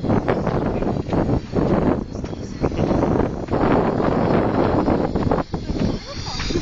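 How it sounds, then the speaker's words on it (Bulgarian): Wind buffets a microphone outdoors as a steady, loud broadband rush with gusty swells, while people talk over it. "Тук има вятър."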